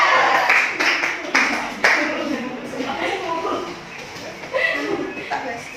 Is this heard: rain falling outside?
no